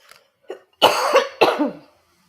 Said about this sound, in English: Darn this cough